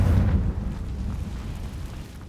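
A Confringo blasting-spell explosion in Hogwarts Legacy: one loud, deep boom at the start that rumbles on and slowly fades over about two seconds, with no voices.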